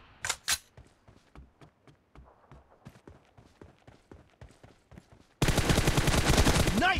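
Gunfire in the PUBG Mobile video game, a rapid series of sharp shots crackling through the first five seconds, then a sudden loud, dense burst of heavy firing.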